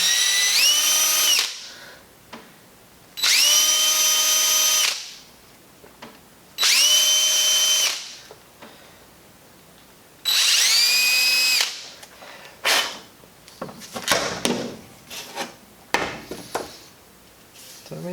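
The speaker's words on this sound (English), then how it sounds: "this stuff doesn't really like to be drilled into" A power drill boring into a foam-padded car steering wheel during an Evo 8 wheel restoration, in four loud whining bursts separated by pauses, followed by softer scraping and clicking handling noises.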